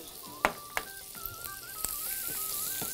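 Butter sizzles and fries in a pan with a soft, steady crackle, punctuated by a few sharp clicks and scrapes of a utensil, and a wavering electronic tone running underneath.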